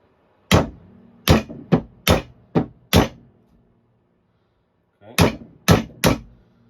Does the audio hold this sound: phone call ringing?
no